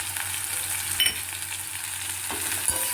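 Ghee going into spice paste that is already frying in mustard oil for a traditional rohu fish curry, a soft steady sizzle with faint stirring scrapes and no talk.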